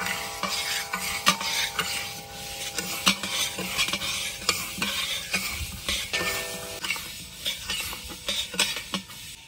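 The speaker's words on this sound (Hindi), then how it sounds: "तो चम्मच चलाते हुए माश की दाल को हल्का हल्का भून लेंगे" Urad dal being dry-roasted in a kadhai while a spoon stirs it, giving repeated scraping and rattling strokes of grains against metal in an uneven rhythm, with faint sizzling beneath.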